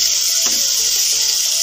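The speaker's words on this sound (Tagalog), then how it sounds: "pag nagpiprito ka ng manok, kailangan talaga nakalubog yung piniprito mo sa mantika" Chicken frying in oil over a low flame, giving a steady, loud, close hiss and crackle of sizzling that runs without a break.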